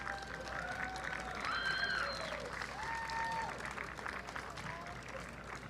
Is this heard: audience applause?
yes